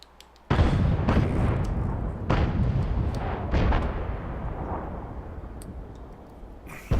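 FV3805 tank destroyer firing its main gun on the Pilsen map in World of Tanks, a single heavy boom followed by several rumbling explosive bursts that fade into a long decaying tail.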